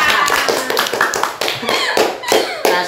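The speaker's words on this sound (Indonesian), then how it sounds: "Tepuk tangan." Audience clapping at a school podcast event, a loose run of separate hand claps and taps rather than a dense roar, with some voices mixed in.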